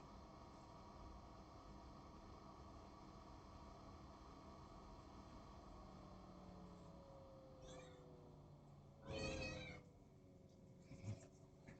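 A cat meows indoors, a couple of faint calls followed by a louder, clearer meow near the end, over a steady low hum of background noise.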